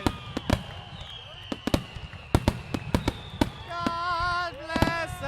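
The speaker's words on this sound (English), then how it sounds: "The concussion of those explosions." Fireworks bursting at a Fourth of July style backyard gathering with beer, baseball and barbecue: a rapid run of sharp, loud booms and cracks, then whistling, crackling shells with tonal swirls, while people exclaim over them.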